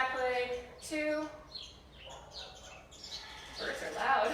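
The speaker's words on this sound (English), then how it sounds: "birds are loud" Outdoor birds chirp and tweet in short bright bursts, moderately loud and close, with background noise beneath.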